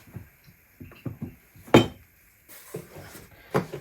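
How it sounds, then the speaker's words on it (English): Tea being served from a pot into a cup, heard as a string of light china clinks and taps, with one louder clatter midway and another near the end, close and fairly quiet. "And we will just dish out the tea"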